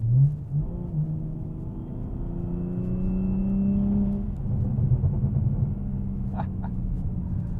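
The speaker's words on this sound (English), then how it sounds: "Let's do some downshifts." 2013 BMW 335i Coupe downshifting on a road drive: engine pitch drops in steps, rises with throttle blips, then settles into a steady rumble, with a thin high whine running through the middle and a few faint clicks near the end.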